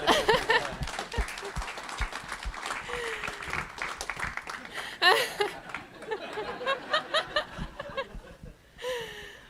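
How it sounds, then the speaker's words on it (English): Audience applause at an SI-MBA final practicum welcome, a dense sustained clapping that fades in intensity partway through, with scattered chuckles and voices mixed in over the full length. "Round of applause."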